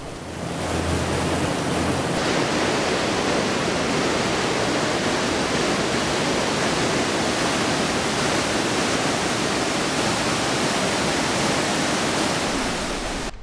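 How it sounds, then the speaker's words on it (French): Roaring waterfall dropping several tens of meters beside the mountain road from Tibet to Nepal, a loud, continuous broadband rush of falling water with no voices, steady and close throughout. "Cette cascade, qui tombe de quelques dizaines de mètres, débarrassera nos véhicules de la poussière du plateau tibétain."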